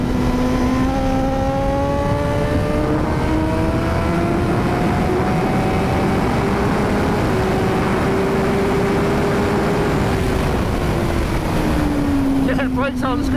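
A 2018 Suzuki motorcycle engine on a race track, loud and close, holding a steady high drone that slowly rises in pitch, then dips and rises again near the end.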